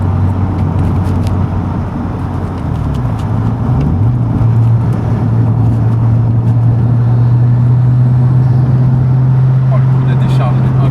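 Nissan Skyline R33 GTS-T Type M with the 1997 RB25DET 250 hp turbo engine pulling hard in race mode, a loud steady drone rising in pitch inside the cabin, with people talking over it.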